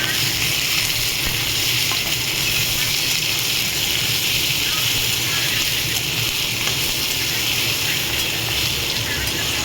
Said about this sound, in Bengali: আস্তে করে ভেজে নেবো ভালো করে।